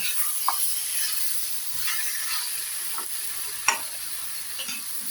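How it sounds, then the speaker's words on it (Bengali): Potatoes frying in a pan with ground poppy seed paste, stirred now and then: a steady soft sizzle with occasional scraping knocks of a utensil, no talk. "পোস্তটা দিয়েও আমি একটু ভালোভাবে পোস্তটা আলুর সঙ্গে কষিয়ে নেব।"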